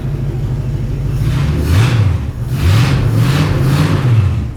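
An old hot rod Studebaker engine idles with a deep rumble and is blipped several times, each rev swelling loudly then settling back, heard close up in a garage.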